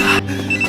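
A telephone rings with a short, bright electronic trill that sounds close and loud, breaking off briefly before it resumes.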